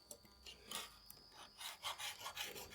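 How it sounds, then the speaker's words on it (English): A diamond sharpener rasps back and forth across the edge of a Japanese gardening tool, making close, repeated gritty scraping strokes that quicken into a steady rhythm toward the end. "So maybe I'll just use my diamond sharpener on this side"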